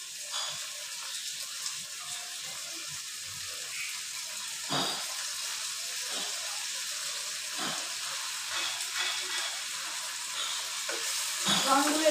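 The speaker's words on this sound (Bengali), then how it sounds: "দেখো এগুলো এবার এর মধ্যে দিয়ে দিচ্ছি।" Prawns fry in a pan for prawn malai curry, giving a steady, moderate sizzle broken by occasional stirring scrapes and clicks, close by.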